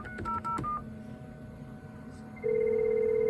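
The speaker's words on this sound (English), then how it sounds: "I'm going to let it ring over and over, and it rings for about 20 seconds." Short keypad dialing beeps from an ISDN telephone call give way to a steady electronic ringing tone that starts partway through and continues, clear and moderately loud.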